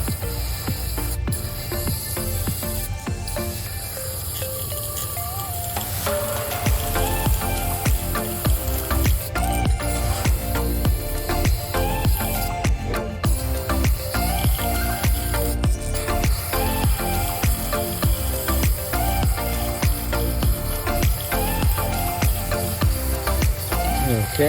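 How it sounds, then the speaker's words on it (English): Spray paint hisses onto a crankbait fishing lure in even strokes, short bursts of spray over a constant background hum with occasional clicks, close and moderately loud. "So here you want to do nice even strokes to make sure the paint is sprayed very evenly"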